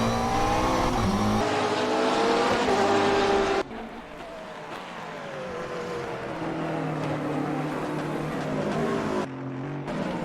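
Several McLaren GT3 race cars in a sim racing game circuit Silverstone, engines screaming loudly and continuously with shifting pitch as they run close together, a brief drop midway and near the end.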